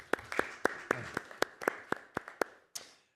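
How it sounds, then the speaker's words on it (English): A small group of people at a school board meeting clapping for a student, about a dozen sharp, fairly close claps in a quick irregular rhythm lasting a few seconds. "Give him a round of applause."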